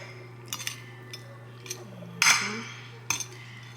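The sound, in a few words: spreading butter around noodles in a pan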